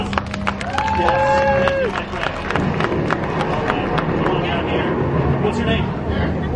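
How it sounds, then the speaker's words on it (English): Audience applause at a live Howl-O-Scream Orlando show, a burst of crowd clapping and cheers rising under a presenter's amplified voice, then fading into general crowd murmur. "Give him a round of applause."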